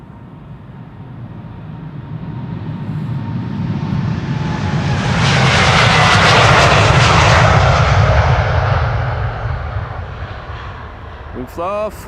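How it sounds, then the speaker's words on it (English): A KLM Boeing 787-10 Dreamliner departing Amsterdam Schiphol for Bogota swells from a distant rumble into a loud, close engine roar, then recedes, with a brief voice at the very end. "This is KLM flight 741 to Bogota in Colombia"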